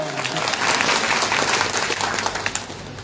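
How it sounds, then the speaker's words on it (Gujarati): Audience applause at a Gujarati public speech, dense steady clapping from a crowd lasting the whole span, loud and fairly close, with a few sharper claps near the end. "તમે તાળી પાડો"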